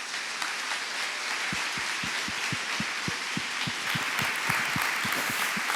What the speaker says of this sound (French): je voudrais vraiment vous demander des applaudissements pour Madame Isabelle Fillosa.